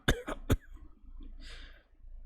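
A character in the visual novel Tsukihime coughs after collapsing to their knees in a grassy field: three quick, harsh coughs in a row, fairly close and quiet, followed by soft shuffling and a faint breathy hiss.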